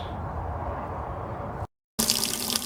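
Water running through a washing machine hose hooked to a garden hose into an older Whirlpool Heavy Duty washer, a steady close hiss that cuts out briefly and then resumes.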